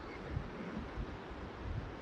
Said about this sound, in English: it's so windy around this area